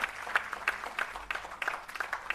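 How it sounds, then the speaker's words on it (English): Conference audience at a restorative justice event applauding, with a steady wash of many hands clapping at moderate distance and no speech over it. "Could you keep the applause going, ladies and gentlemen?"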